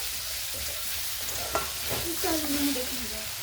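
Spice paste fries and sizzles in hot oil for an Assamese brinjal curry, a steady close hiss with a few faint stirring scrapes and no voices.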